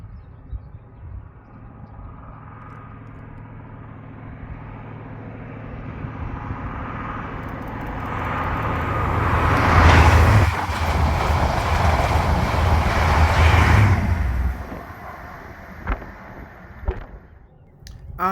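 A cross-country HST passenger train led by power car 43301, running from Plymouth to Edinburgh, approaches with a swelling diesel roar, peaks loud and close with rushing wheel noise, then fades away with a few rail clanks.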